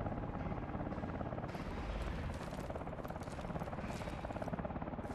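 A helicopter in the video game Call of Duty: Advanced Warfare thuds with fast, loud rotor chopping and engine roar, while voices call out over the din amid faint combat noise.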